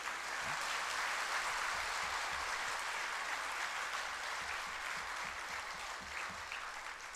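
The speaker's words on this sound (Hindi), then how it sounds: "जो तालियां बजा रहे हैं उनके जीवन में भी" Sustained audience applause fills a hall during a spiritual discourse, a steady, dense patter of many hands clapping at once without pause for about seven seconds.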